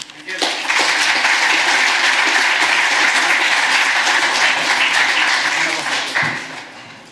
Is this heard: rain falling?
no